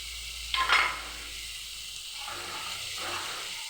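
Spice paste with sour yogurt and Kashmiri chili powder frying in a pan for potol kasundi bursts into a sharp sizzle when stirred, then settles into a steady, close hiss.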